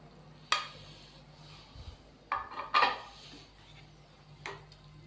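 Chicken pieces going into a tikka masala pan, a few sharp metallic clanks and scrapes of a utensil against the pan separated by quiet gaps.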